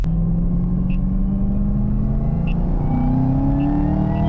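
A supercharged 2022 Chevrolet Camaro ZL1 V8 with a Corsa cold air intake idles and builds revs in a steady, close rumble. A thin blower whine slowly rises above it, with no voices.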